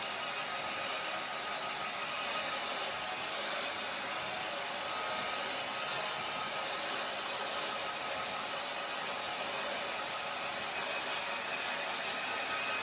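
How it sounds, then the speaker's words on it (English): A hair dryer blows steadily on a watercolour painting during a live painting session outdoors in France, a loud, continuous, unbroken roar of airflow for the whole stretch with no pauses. "use the artist's little helper and dry things off a little bit"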